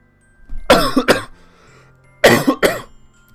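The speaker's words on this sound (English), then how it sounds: "My cough is not very good today." Two separate bursts of coughing, each a quick double cough, close and fairly loud, with quiet pauses between them.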